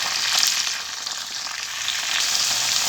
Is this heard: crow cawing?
no